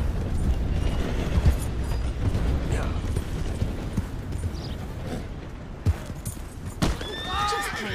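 Horses whinnying and clip-clopping with a creaking stagecoach in the video game Red Dead Redemption II, steady hoofbeats and rattling mechanisms throughout, ending in a clear loud neigh.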